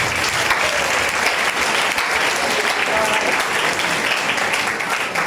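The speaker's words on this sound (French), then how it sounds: "Je t'applaudis." Steady applause fills a church gathering, a dense wash of many hands clapping at an even level with no pauses, close and continuous throughout.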